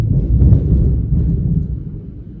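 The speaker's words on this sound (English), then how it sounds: "Did you see that? There was lightning, bro." Low, rolling thunder rumbles steadily after a flash of lightning during a run of stormy weather, a loud sustained roar without distinct cracks and with no voices over it.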